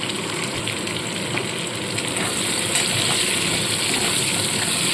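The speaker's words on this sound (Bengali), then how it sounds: "সামান্য নুন আর হলুদ দিয়ে আলুগুলোকে ভেজে আমি ভালো করে লাল লাল করে ভাজবো" Potato pieces frying in a pan with a little salt and turmeric, a loud, continuous close sizzle and hiss of hot oil that holds steady throughout with no talk.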